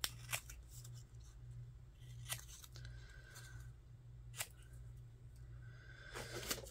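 Scissors snip around a postage stamp, making a few sharp, crisp cuts spaced apart over a quiet room hum.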